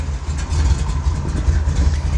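A 1965 Dodge Coronet 500 pro street car with a 451 cubic inch wedge V8 and 4-speed idles close up, a deep, loping, throbbing rumble that stays steady and loud with no talk.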